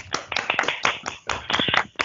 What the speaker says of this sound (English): So could we just give them a little round of applause?